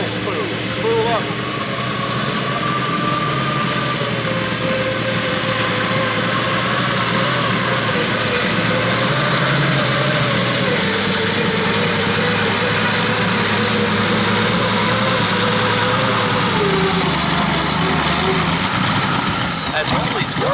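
A twin-turbocharged 1,790-cubic-inch V12 Continental tank engine on a pulling tractor at a tractor pull in Rantoul, Illinois roars steadily and loudly, its pitch shifting gradually, while an announcer talks over it.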